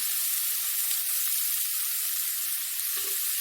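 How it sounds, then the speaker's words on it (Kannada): Onion fries in a pan for a crab sukka dish, giving a steady, even sizzle that holds throughout, close and unbroken, with no talking. "ಈರುಳ್ಳಿ ಸ್ವಲ್ಪ ಕೆಂಪಗಾಗೋದನ್ನು ಹುರ್ಕೊಳ್ಬೇಕು"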